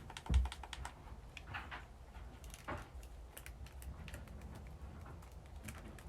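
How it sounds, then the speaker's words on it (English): Clicky button on a handheld electronic game being pressed repeatedly, giving faint, sharp, irregular clicks over a low background hum. "And the button is very clicky."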